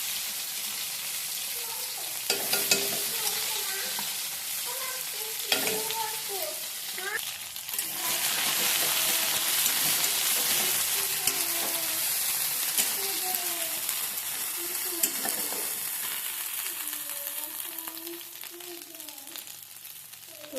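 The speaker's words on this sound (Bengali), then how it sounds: "এবার তেলের উপরে কাঁচা পাতা দিয়ে দেবো।" Raw leaves hit hot oil with black cumin seeds for a vegetarian, garlic-free dish, giving a steady loud sizzle with stirring scrapes throughout while someone talks over the frying.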